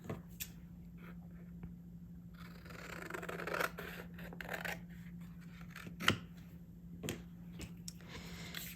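Scissors cutting paper along a fold line during a gnome paper craft, heard as faint, close snipping and rustling with a few sharper clicks over a quiet background hum and no talking.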